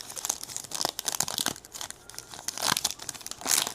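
A foil wrapper on a Topps Star Wars Chrome card pack is torn open and crinkled, giving a close, busy run of crackling rustles that surge and fade in bursts.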